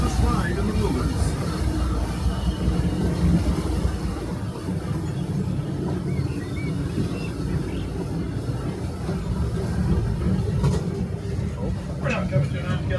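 A Disneyland Railroad train runs with a steady low rumble and rolling rail noise, carrying on under faint crowd sounds throughout, with a few brief higher squeaks and clanks.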